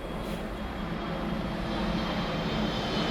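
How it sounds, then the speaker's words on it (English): An airplane flies overhead near an executive airport, a broad, steady engine roar that swells slightly and fills the whole clip, with no voices. "That's a plane."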